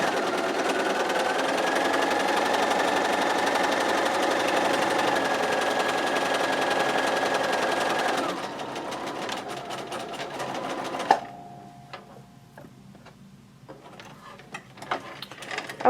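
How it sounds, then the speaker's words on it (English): A sewing machine stitching quilt rows together runs in a steady, loud mechanical whir for about eight seconds, then slows to intermittent bursts and a short pause, with light handling clicks and rustles near the end. "I'm going to finish sewing row 1 together"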